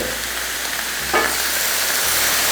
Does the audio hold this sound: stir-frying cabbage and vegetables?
yes